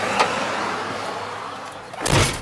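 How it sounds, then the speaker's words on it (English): A classic Ford F250 slant-nose Class C motorhome's door is shut hard, giving one loud, close thump right near the end, with a fainter knock near the start over steady outdoor background. "You don't gotta shut the doors that hard either."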